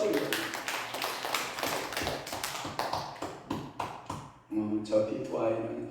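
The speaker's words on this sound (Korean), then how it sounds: "박수" A Korean church congregation at a Sunday worship service claps in a run of sharp, uneven bursts that thin out partway through, then give way to a pastor's speaking voice.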